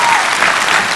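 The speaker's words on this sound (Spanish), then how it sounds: "Un aplauso para ella." Audience applause for an athletics champion, a thick, loud, continuous wash of clapping filling the whole moment without a break.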